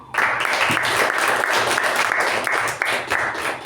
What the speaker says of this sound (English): Let's all applaud with little more energy.